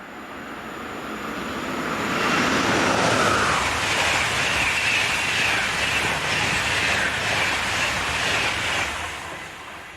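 A train, with locomotive 101098 in the lead, storms past at speed. A broad rushing roar and rail clatter build over a couple of seconds, stay loud through the pass and begin to fade near the end.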